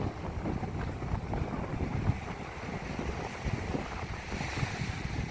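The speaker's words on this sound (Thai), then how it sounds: "ลมแรง" Strong wind buffeting at the seaside at Khao Kalok near Pak Nam Pran, a continuous broadband roar with gusty rumble and surf-like wash, steady and loud throughout with no voices.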